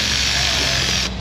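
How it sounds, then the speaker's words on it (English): A small electric ratchet runs steadily on manifold bolts of a Chevrolet Silverado, a close, continuous whirring buzz that holds for about a second before cutting off abruptly. "I will start them all with my little electric ratchet carefully."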